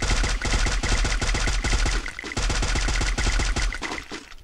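Rapid bursts of automatic gunfire from the Free Fire battle-royale game during a duo ranked match, loud and continuous with brief gaps, no talk over it.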